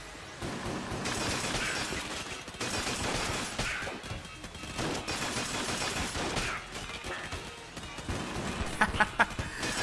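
Dense, continuous volleys of video-game gunfire from Enter the Gungeon, rapid overlapping shots and blasts filling the whole stretch, with a burst of sharper cracks near the end.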